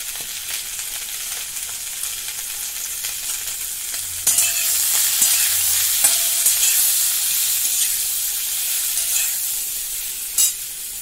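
Vegetables for a Bengali vegetarian chorchori dropping into hot oil in a pan, a quieter sizzle that jumps into a loud, sustained frying hiss partway through, with a few stirring knocks and no voices.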